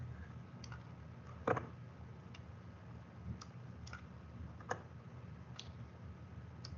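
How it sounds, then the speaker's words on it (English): Sparse keyboard keystrokes during an online training meeting: a handful of faint, irregular clicks spread across a quiet room hum, with one slightly louder tap near the start and no talking. "We got someone typing."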